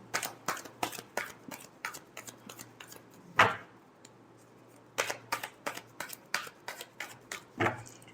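Tarot cards are shuffled up close in quick runs of crisp, snapping flicks, with a brief pause and a couple of louder slaps between bursts.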